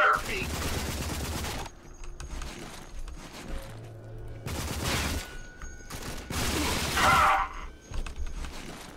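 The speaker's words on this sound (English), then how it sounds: "Switch back to our assault rifle." Assault rifle gunfire in the shooter RAGE, rapid automatic bursts that come in several loud clusters with short pauses between them, plus some mechanical clatter and a voice in the background.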